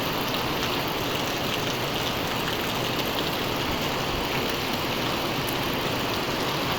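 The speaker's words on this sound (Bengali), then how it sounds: "প্রচণ্ড জল হচ্ছে।" Heavy rain pours down on flooded streets where the water has risen level with the road, giving a dense, steady roar with no breaks and a faint engine hum in the background.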